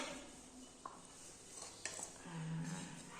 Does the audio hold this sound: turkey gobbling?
no